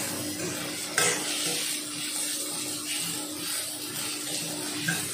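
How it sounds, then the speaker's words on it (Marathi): Onions sautéing in oil in a pan for butter chicken, a continuous close sizzle with scraping stirs and a brief clatter near the start, no voices. "चांगला परतून घ्यायचा याच्यामध्ये तेलामध्ये।"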